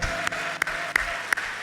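A congregation claps together at a New Year's Eve church service, a steady dense wash of applause with a few sharper hand strikes standing out, fairly loud and with no talking over it.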